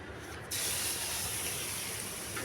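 Bitter gourd dropped into a hot wok of oil after frying pointed gourd sets off a sudden loud hiss of sizzling that starts sharply and holds steady until the end, with no talking.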